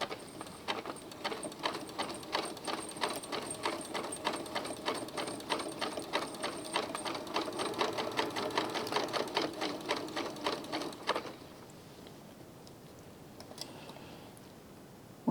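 A sewing machine with a beading foot stitches beads onto fabric in a quick, regular rattling rhythm up close for about eleven seconds, then stops, leaving quiet room sound with a few faint clicks.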